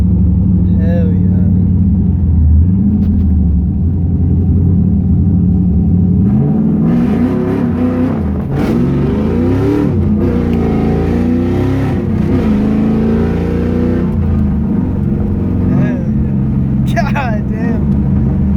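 Cummins 4th gen diesel truck engine revving loudly and close, a steady deep rumble that swells into higher revs midway, with excited voices talking over it.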